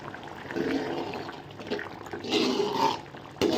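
Prawn thokku simmering in a pan, cooking down until its water evaporates: a steady, moderately loud bubbling and sizzling hiss that runs throughout, swelling briefly near the end, with no talking.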